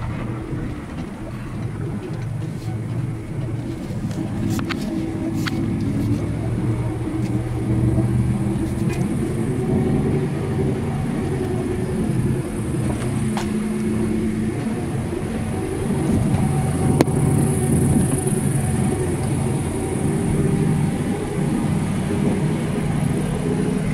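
A vehicle climbs a newly built gravel drive through pine woods toward a rural land site, its engine a steady, close low rumble with constant road and wind noise throughout and no talking.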